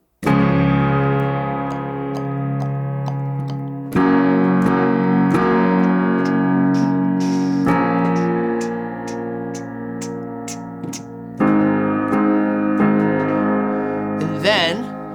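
Piano chorus chords from the worship song "Therefore I (Won't Fear Anymore)" are played in a rhythmic pattern that follows the drum part, with chord changes roughly every four seconds and a ringing, effects-coloured tone, alone without talk.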